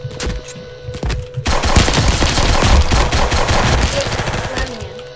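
Rapid gunfire in the Roblox game Robber, a brief shot or two followed by a loud, sustained burst of automatic fire that fills most of the stretch.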